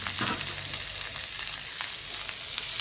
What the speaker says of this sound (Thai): แล้วเราก็ผัดนะครับ ผัดให้มันเข้ากับพริกแกงของเรานะครับ